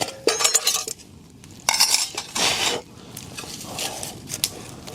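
A metal camping pot and utensils clink and clatter outdoors while instant noodles are cooked, several sharp bursts of scraping and knocking separated by short pauses, close by.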